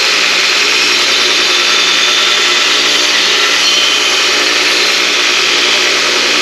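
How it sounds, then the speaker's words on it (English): A grinder sharpening a lawn mower blade, grinding it flat. The metal grinding is loud, close, harsh and continuous, holding steady throughout with no pauses. "then we're going to take the back side and grind it flat again."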